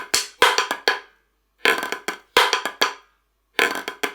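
Snare drum plays a buzz lick from the Bluecoats 2021 drum part, close and crisp, in short grouped bursts of buzz rolls and accented hits separated by brief silences.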